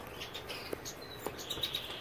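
Caged goldfinches chirp in short, faint, high tweets scattered through a quiet room, with a few soft brief calls and no voices.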